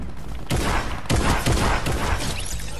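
Rapid AK assault rifle fire in the Fortnite video game, dense bursts of close game gunfire through most of the clip with brief gaps between volleys.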